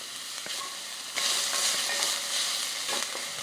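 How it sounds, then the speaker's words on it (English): Onions frying in a pan toward a light golden color, making a continuous hissing sizzle that swells louder partway through, with occasional stirring clicks and no speech. "We don't want the onions to brown or anything, just a slight golden color."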